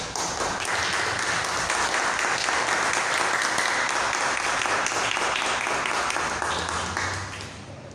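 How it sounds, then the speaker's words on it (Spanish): A church congregation claps loudly and continuously in praise during a worship service, a thick, even wash of applause that eases off slightly near the end. "Aplaudan al Señor."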